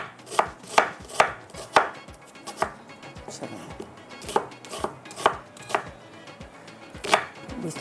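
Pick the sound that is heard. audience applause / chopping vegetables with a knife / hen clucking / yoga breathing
chopping vegetables with a knife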